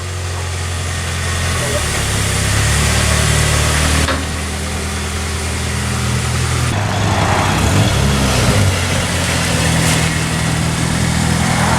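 A 2003 Pontiac Vibe GT runs throughout a short test drive, a loud continuous engine drone that shifts in pitch as it moves, with talk and rumbling road noise mixed in.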